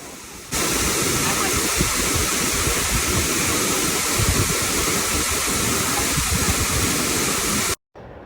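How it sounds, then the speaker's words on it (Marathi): A flowing stream of water at Kaas Pathar, in the Mahabaleshwar area of Maharashtra, makes a steady, close rushing wash that runs unbroken almost the whole time, with a brief dropout near the end and possible faint voices beneath. "तो पाण्याचा प्रवाह आणि तो पाण्याचा आवाज ऐकून मनाला खूप शांत वाटत होतं"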